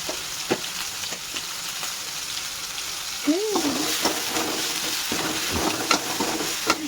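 Onions with salt fry in a pan toward golden brown for an onion gobi dish, giving a constant close sizzle with scattered stirring clacks and one short vocal sound partway through.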